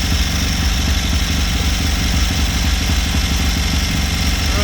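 An MGB sports car engine with a Weber carburetor idles while warming up: a steady, loud, close low rumble with an even rhythmic throb and no talk.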